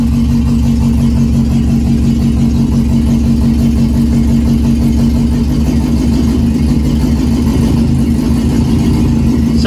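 The engine of a 1961 Morris Minor pickup runs steadily and close up with a loud, low, rhythmic chugging. The throb holds constant throughout with no speech.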